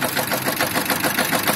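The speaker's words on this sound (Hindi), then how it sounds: "देखो स्टार्ट है ट्रैक्टर" A 2018 Steel Track 18 tractor engine runs continuously close up, a steady, rough, loud idling chug with no pauses.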